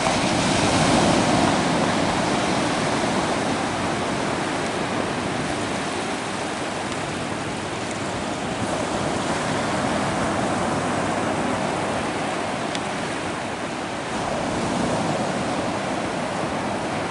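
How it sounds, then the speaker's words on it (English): Steady roar of ocean surf washing ashore at Myrtle Beach, South Carolina, continuous and fairly loud, with wind noise and no voices. "I'm at the seashore here in Myrtle Beach, South Carolina"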